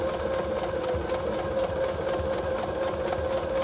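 A sewing machine runs steadily while stitching the double welt pocket of a half-scale jacket, a continuous close whirring hum with a rapid needle rhythm and no voice.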